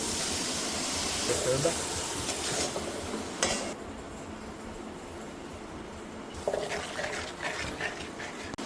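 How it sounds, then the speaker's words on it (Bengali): A little water is added to frying spices, dried chili and Kashmiri red chili powder, for a Bengali pork curry, a hissing steamy sizzle with stirring scrapes, close and fairly quiet, with some voice underneath. "মশলাটা কষানোর জন্য আমরা সামান্য পরিমাণ জল দিয়ে দেবো।"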